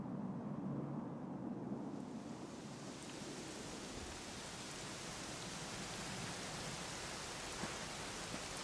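Steady, dense rain hiss in Dragon Quest XI S fills the whole stretch, a continuous broadband wash with no voices and no distinct drops standing out.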